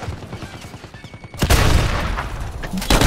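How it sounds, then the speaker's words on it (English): Gunfire in a Modern Warfare match: light taps and clicks, then a sudden loud burst of rapid automatic fire that keeps rattling, close and heavy, with a voice briefly underneath. "Why are you shooting at me?"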